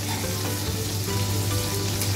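Eggplant slices fry in a pan with a dense, continuous close sizzle of hot oil, steady and loud throughout with no voices.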